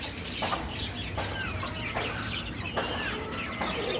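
Native country chickens clucking on a Chennai rooftop during a morning routine, with several overlapping bird calls and short clucks repeating throughout against steady outdoor background noise.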